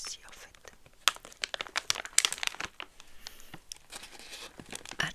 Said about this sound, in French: Je n'ai jamais déballé ce genre de paquet